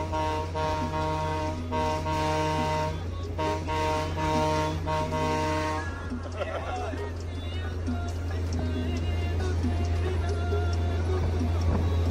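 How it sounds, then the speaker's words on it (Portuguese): Two long, sustained truck horn blasts sound one after the other, loud and steady, from a Volvo FH truck, followed by a busy jumble of voices and background noise. "E buzina com o cotovelo."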